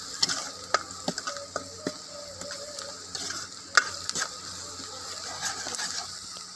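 Masala spices roast with onions in a pan for an aloo baingan sabzi, a light sizzle running under frequent scraping and clicking strokes of a stirring utensil, close and moderately loud.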